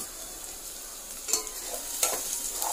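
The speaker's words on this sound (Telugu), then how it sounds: "ఆనియన్స్ వేగలేండి" Onions frying in a pan while a spoon stirs them for a simple chicken curry, with a steady soft sizzle broken by a few sharp scraping stirs close by.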